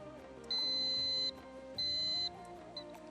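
Game show buzzer pressed on a Pakistani quiz show, sounding two loud, steady high-pitched electronic tones of about a second each over low studio background noise.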